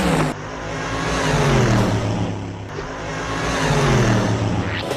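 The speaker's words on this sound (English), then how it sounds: "The truck was going about 20 miles an hour." A truck moving at around 20 miles an hour, its engine note rising and falling through two passes, loud and close, with no voices.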